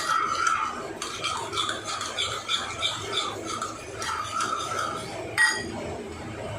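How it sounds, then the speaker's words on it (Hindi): Yogurt (dahi) whisked briskly in a bowl for a sesame dipping sauce, a steady run of close, light clinking and scraping of a utensil against the bowl with no talking. "दही को अच्छी तरह से फेंट लेते हैं।"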